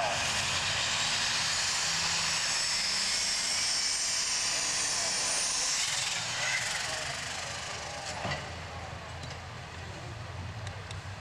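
A super stock pulling tractor with a single turbocharger roars loud and steady at a tractor pull, its engine sound easing slightly near the end.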